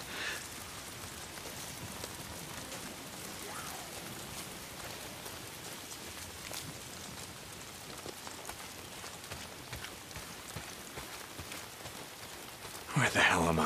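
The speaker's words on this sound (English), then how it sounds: "If it's not the freaks, it's the goddamn rain." Steady rain patters across surfaces in the open-world game Days Gone, a dense hiss of drops throughout with a louder burst at the very end.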